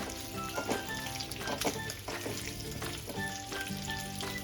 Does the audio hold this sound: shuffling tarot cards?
no